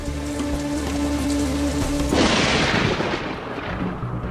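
Heavy monsoon rain pours down in a steady, dense hiss that swells suddenly partway through into a louder, broader wash, with no voices present.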